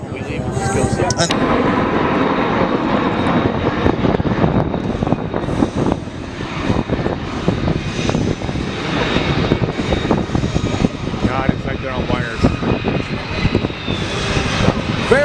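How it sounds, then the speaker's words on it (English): A U-2 Dragon Lady and T-38 jets fly in formation at the Beale AFB Air & Space Expo 2018, producing a loud, continuous roar of aircraft engines that runs throughout. A voice talks over the engine noise. "The U-2 going about as fast as he can, and the T-38's going about as slow as they can."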